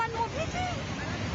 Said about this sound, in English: Listen to it. It does sound like a waterfall.